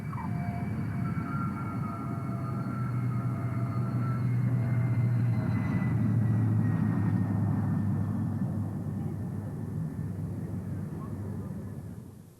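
A steady, loud warplane engine roar rumbles on for the whole stretch with a faint whine as the plane lands, swelling slightly midway before cutting off at the end.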